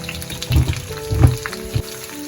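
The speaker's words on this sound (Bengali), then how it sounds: "এর মধ্যে এবার আমি দিয়ে দেবো ঝিঙে" Sliced ridge gourd dropping into a hot oiled pan with chunks of red potato, giving soft bursts of sizzling and frying that swell twice and then settle into a steady low crackle.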